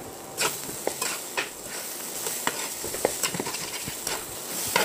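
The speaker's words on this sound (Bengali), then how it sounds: "এটাকে অবশ্যই একটু সময় নিয়ে ভালো করে ভুনতে হবে।" Dhakaiya bean mash fries in a pan while a spoon stirs it, giving a steady sizzle broken by irregular scraping strokes and soft knocks, close and clear with no voices.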